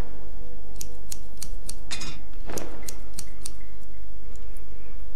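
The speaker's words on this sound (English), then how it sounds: "I can use the scissors on the dress" Scissors snip through a dress in the video game The Cat Lady, a quick series of sharp, regular metallic clicks and a longer cutting swish in the middle, over a steady low game hum.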